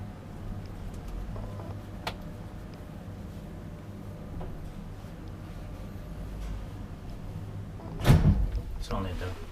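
A 1974 Valmet-Schlieren traction elevator in a Myyrmäki, Vantaa apartment building runs over a low steady hum, and near the end its door gives a short sliding rumble and thud. Quiet conversation continues throughout.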